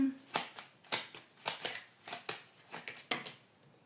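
Tarot cards are shuffled and drawn in a run of crisp, close, irregular flicks and snaps, each short and sharp, while a faint voice speaks in the background.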